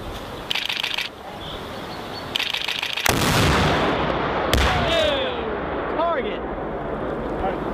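An M3 anti-tank weapon fires on a range: a sharp, loud blast cuts through steady wind noise, followed by a second report and a whistling, descending tone as the round travels off into the distance.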